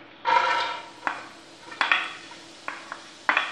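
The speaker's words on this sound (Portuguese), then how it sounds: "Aí nós vamos com a cebola picada e joga aqui dentro." Chopped onion dropped into a hot, oil-free pressure cooker, a loud metallic clatter followed by several sharp, ringing taps and scrapes against the pot, spaced unevenly and with no talking.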